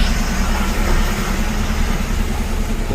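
A vehicle engine idles close by with a loud, steady low rumble and vibration, unbroken and with no voices over it.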